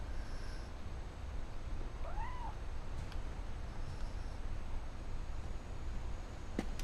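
A cat in What Remains of Edith Finch gives a single short meow over a steady low ambient hum, and a couple of faint clicks follow.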